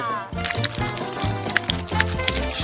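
Hot Nesquik cocoa pours out in a quick, splashy stream onto a snow queen figure, gurgling and splattering up close over a bright musical backdrop.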